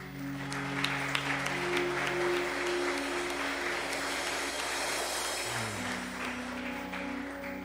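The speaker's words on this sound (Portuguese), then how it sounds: "E um aplauso ao Senhor." A church congregation applauds steadily for several seconds, a dense, even clatter of many hands with a low droning tone running underneath, fairly close and with no talk over it.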